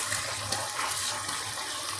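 Water draining from soaked, swollen rice in a strainer, a steady hissing trickle and splash close by that runs without a break for about two seconds.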